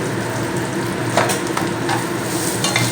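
Potato and eggplant fry in a pan for a small white fish dish, a loud continuous sizzle with a spatula scraping and stirring through it in irregular strokes, close up and with no talking.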